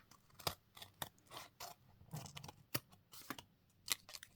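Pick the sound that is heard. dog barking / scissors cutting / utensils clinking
scissors cutting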